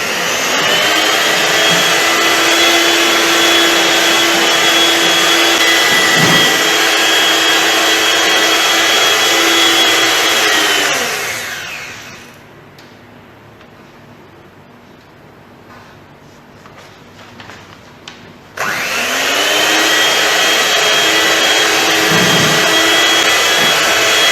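A stand mixer beats steamed lapis legit cake batter with a loud, steady motor whir that cuts out for several seconds midway, leaving quiet room noise, then starts up again at full strength.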